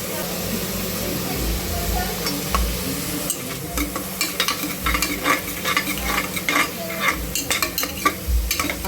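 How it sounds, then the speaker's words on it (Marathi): Tomatoes stirred into fried onions in a pan, with a steady sizzle and hiss under repeated scraping stirs that grow busier in the second half. "कांदा भाजलाय. आता त्याच्यामध्ये टाकत आपण टोमॅटो."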